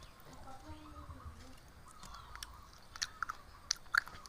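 Quiet, close-up chewing of fresh raw shrimp salad, with soft wet crunches and bites that grow sharper toward the end over low background murmur.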